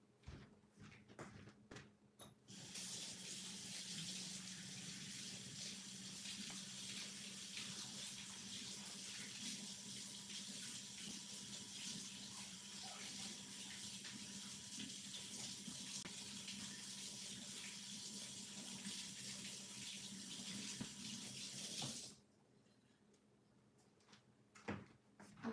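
A kitchen tap runs for about twenty seconds as a spoon is rinsed, a steady close hiss of water that starts and stops abruptly, with faint clatter before and after.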